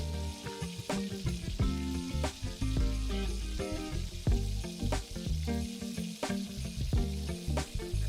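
Mutton chops simmering with thick coconut milk in a pan for Kerala-style lamb chops, stirred steadily with a spoon over a continuous close sizzle and repeated scraping clatters, no talking.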